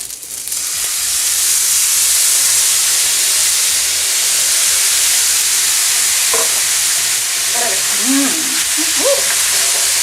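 Chicken fried rice sizzling loudly in a hot pan as soy sauce mixture hits it, a sudden rush of hissing steam that holds strong and steady, with faint voice-like sounds near the end.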